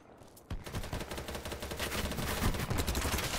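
Gunfire in the shooter game Battle Bit Remastered: after a brief quiet start, dense rapid shots erupt and keep rattling in a continuous, close burst to the end.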